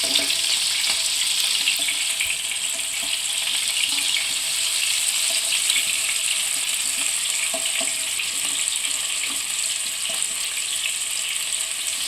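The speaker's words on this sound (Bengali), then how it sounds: "এইভাবে হালকা হাতে করে করলাটাও ভেজে নিতে হবে" Bitter gourd (karela) shallow-frying in a pan for shukto, a continuous bright, even sizzle with soft crackles throughout, steady and close with no talking.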